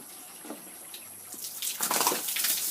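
Water splashes and pours over pigs as they are washed, starting quietly and growing louder and more spattering toward the end.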